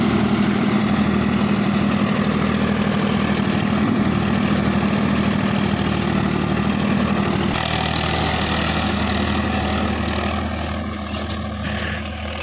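A tractor engine idles steadily at close range, a low throbbing rumble that stays constant, easing slightly toward the end.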